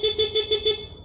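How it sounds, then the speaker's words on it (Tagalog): A Yamaha NMAX Tech Max scooter horn beeps five times in quick, even succession, close and clear, with no talk over it. "Then we have the horn."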